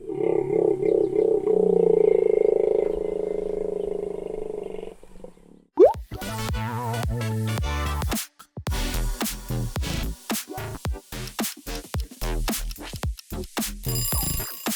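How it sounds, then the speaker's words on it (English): A hippo vocalizes with a deep, sustained honking groan, followed after a brief break by a rapid series of loud, chuckling wheeze-honks in choppy bursts. "Hippo."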